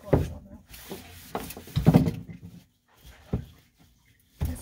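A dog in a small indoor room whimpers briefly and shuffles about, with a few knocks and thumps like wood or a cupboard, close and intermittent with quiet gaps between.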